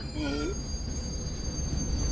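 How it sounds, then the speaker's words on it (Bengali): A train pulls into a station with a sharp, high metallic wheel squeal in the first half-second, then a loud continuous rumble of rolling wagons nearby. "ট্রেনই তো নয়, ট্রেন আসছে মনে হয়।"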